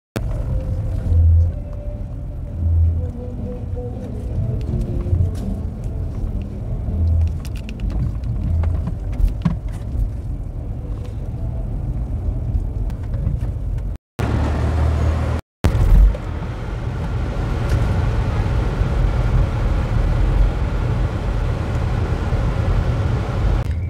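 A car driving along a city avenue in San Salvador, a continuous low engine and road rumble heard from inside the vehicle, with brief dropouts near the middle.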